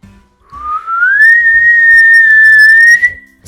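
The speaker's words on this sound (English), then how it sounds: "So she whistled loudly" A loud, sustained whistle from a winter storytime read-aloud for children, rising at the start and then holding one steady, clear note for about two seconds before cutting off.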